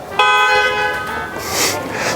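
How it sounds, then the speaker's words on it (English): A car horn blares in one sustained, fairly loud honk lasting about a second, heard from inside the car, then fades into a breathy hiss and faint background noise. "You can honk"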